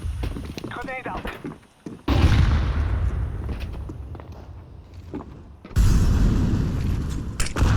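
Grenade blasts in a Genshin Impact battle, two heavy booming bursts with rumbling tails, loud and near, amid voice callouts and game background noise.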